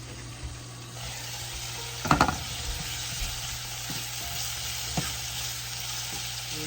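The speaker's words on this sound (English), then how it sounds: "Okay, so we're gonna get this sauteed" Food sautés in a pan with a soft, continuous sizzle, broken by a brief clatter of utensil stirring near the middle and another light knock later.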